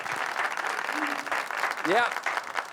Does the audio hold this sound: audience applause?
yes